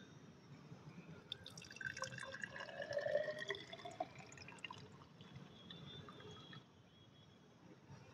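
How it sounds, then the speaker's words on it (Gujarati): Water from a rain gauge is poured into a small measuring beaker, giving faint trickling and splashing that rises with a rising fill tone midway and then tapers off, with no talking. "આ બીકરમાં આ જે છે પાણી સંગ્રહ થયેલું આ બીકરમાં આપણે ભરવાનું"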